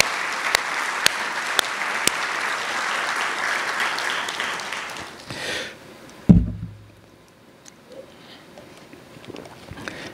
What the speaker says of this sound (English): And I'll ask you to give us, everyone, a round of applause.